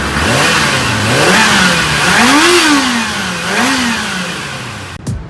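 A 2024 Kawasaki ZX-25R SE motorcycle engine revs loudly and up close, its pitch rising and falling through several throttle blips before cutting off sharply near the end.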